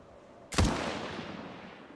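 A single sharp gunshot in the adventure game Murder in the Alps, loud and abrupt, then a long fading echo in an otherwise quiet scene.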